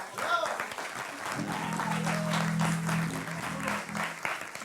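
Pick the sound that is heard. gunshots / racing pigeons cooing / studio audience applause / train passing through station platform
studio audience applause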